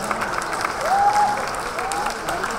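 A hall audience at an ITS alumni association gathering applauds after a speech, sustained crowd clapping with a faint tonal whistle rising briefly above it and a voice speaking over the applause.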